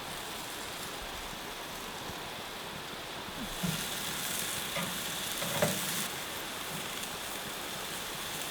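Spicy Korean chicken skewers (dak-kkochi) sizzle steadily on a hot surface, a constant crackling hiss with a few louder pops and spatters midway as they are flipped and sauced.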